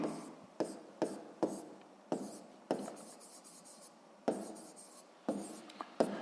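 Pen strokes scratching numbers by hand on paper during a sixth-grade maths exercise, a series of short rubbing scrawls with sharp starts, fairly close and quiet, no voice over them.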